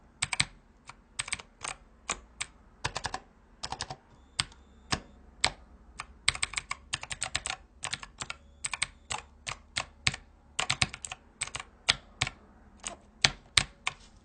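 Rapid clicky keystrokes on a mechanical gaming keypad, irregular bursts of typing with brief pauses, close and fairly quiet, no voices.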